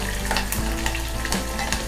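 Onion pieces sizzling and frying in a pan with ginger and green chilies for finger millet upma, a dense continuous crackle with stirring scrapes, close and steady.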